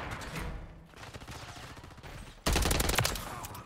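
Automatic gunfire in Call of Duty: Modern Warfare 3, with quieter shooting and game noise, then a sudden loud burst of close, rapid fire near the end.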